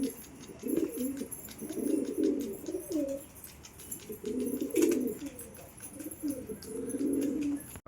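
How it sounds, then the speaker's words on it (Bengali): Domestic pigeons near their loft give low, throaty coos in several repeated bursts, close and fairly soft, with brief gaps between phrases. "আমার পায়রা কেমন লাগছে বলুন আপনাদের"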